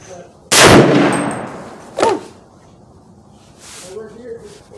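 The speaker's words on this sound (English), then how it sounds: "Second shot at 100." .338 Federal rifle fired at a 100-yard target: a single loud, close blast with a long decaying roar, followed by a metallic ring and a brief burst of talk afterward.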